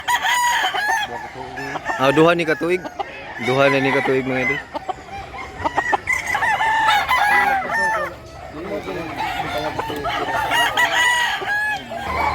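Black Hennie rooster over a year old crowing repeatedly near and loud at a farm in Mantalungon, Barili, Cebu, with other fowl clucking around and someone talking throughout.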